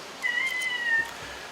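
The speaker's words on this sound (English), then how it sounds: "Do you hear my mom's cat, or my cat, right behind me? Trying to get inside the door." A single drawn-out meow, fairly steady in pitch, sounds from a short distance away in an otherwise quiet room.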